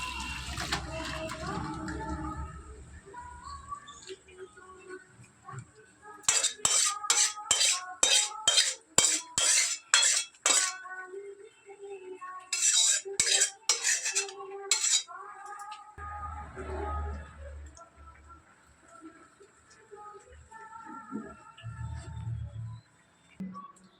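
Pot of cooked chicken curry being taken off the stove, with sharp metallic clinks and clatters of dishes and utensils coming in quick bursts, then quieter handling and shuffling sounds.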